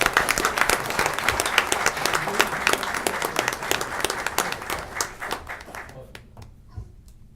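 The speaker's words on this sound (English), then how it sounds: "Let's give them a big round of applause for that." A room of attendees at a city council meeting applauds, dense sustained clapping that fades out toward the end, a few last claps trailing.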